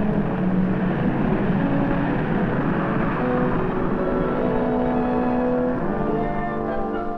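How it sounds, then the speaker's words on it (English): Steady droning propeller engines of a Fairchild XC-120 cargo plane, loud and continuous throughout with no talking. "the U.S. Air Force demonstrates its latest cargo plane"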